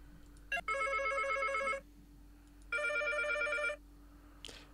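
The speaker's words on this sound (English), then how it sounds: "My phone's ringing." A telephone rings in two long electronic trills separated by a pause, clear and moderately loud against a quiet room with a faint steady hum.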